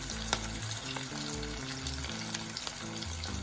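Pepper, onion and tomato mix sizzling steadily in hot oil for Ghanaian jollof rice, a close, continuous frying hiss with no talk.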